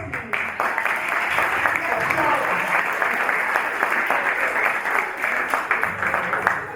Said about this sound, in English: Yeah, applause.